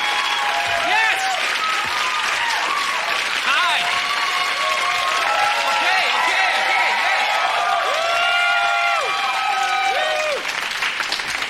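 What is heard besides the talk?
studio audience applauding and cheering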